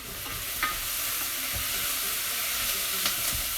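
Two brown onions soften in a saucepan, giving a continuous, even sizzle with a few faint knocks from stirring.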